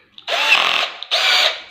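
A cordless battery drill spins up in two close, loud bursts with a short pause between, its motor whine steady during each run and no voices over it.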